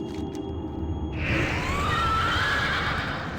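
A horse whinnies loudly and close in World of Warcraft: Wrath of the Lich King Classic, a long neigh rising and falling over a steady rumble of ambient noise.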